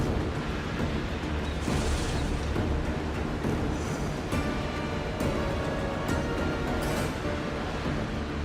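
Enemy ship cannon fire and explosions in the video game Assassin's Creed Odyssey, heard as a dense, continuous roar of booms and crashing water with no clear separate shots and no talk.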